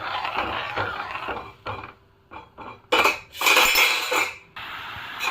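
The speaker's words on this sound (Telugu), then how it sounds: "బెల్లం కరిగేలాగా ఇలా కలుపుతూనే ఉండండి" Spoon scraping and clinking around a pan while jaggery melts, bursts of metallic stirring with short pauses, close and fairly loud, no voices.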